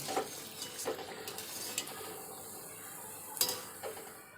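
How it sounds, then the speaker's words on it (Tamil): Honey candy (thaen mittai) fries in oil over a medium flame, a faint low sizzle broken by a few soft clinks of a utensil against the pan, quiet and close with no speech. "தேன் மிட்டாய் ஃபுல்லாக சுட்டு எடுத்தாச்சுங்க."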